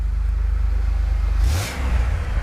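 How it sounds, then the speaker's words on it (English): A GMC Duramax with an exhaust leak at the front revs up: a steady, close engine rumble swells into a brief, louder rev burst and then settles back to idle. "Go ahead and rev her up."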